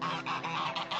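A large flock of geese regrouping around their lead gander in June after the laying season, honking continuously in overlapping calls that swell and fade, close and loud.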